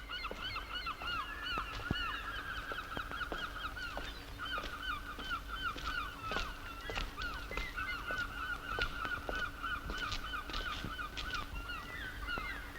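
Geese honking repeatedly in a noisy, overlapping chorus over a steady outdoor background, with many short calls near and far.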